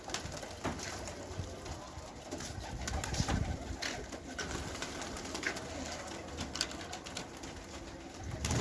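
Pigeons cooing steadily in a hot outdoor loft, a dense continuous chorus of low coos and rustling close by, with no talk.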